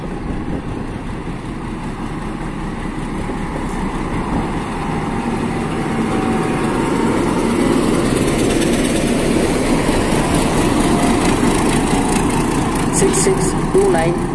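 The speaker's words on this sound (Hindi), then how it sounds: "YDM-4 लोकोमोटिव लगा हुआ है Mavli Marwar metre gauge train में" A YDM-4 diesel locomotive hauling a meter gauge train from Mavli to Marwar in Rajasthan, heard as a continuous loud rumbling drone of engine and running gear that builds slightly, with a voice partly over it.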